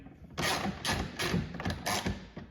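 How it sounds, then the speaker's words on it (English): An Allen wrench tightens fender flare bolts on a Yamaha Rmax2 side-by-side, heard as a quick series of close, soft ratcheting clicks and scrapes in a rhythmic run of about five strokes. "take your Allen wrench again and you can tighten"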